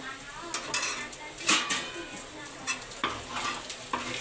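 Chicken fried rice fries in a pan with a steady sizzle, punctuated by repeated metal scrapes and clanks as a spatula stirs it, close and fairly quiet.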